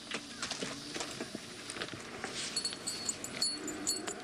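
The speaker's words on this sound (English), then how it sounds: "I got a lot of time into this horse right here." A horse at Dixon Correctional Institute clip-clops on hard ground with quick, irregular hoof strikes. The steps are close and moderately loud, and faint background noise runs under them.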